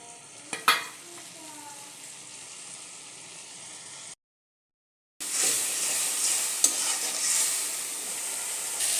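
Spices and vegetables sautéing in a pan for a simple Bangladeshi village curry, giving a dense hissing sizzle with stirring scrapes and a couple of sharp knocks, briefly cut to silence midway before the frying resumes louder.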